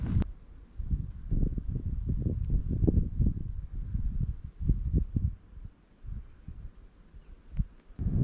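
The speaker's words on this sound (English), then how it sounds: "It's really windy right now." Low, rumbling gusts of wind in Lake Wales Ridge State Forest buffeting the microphone, swelling and fading irregularly with brief lulls in between.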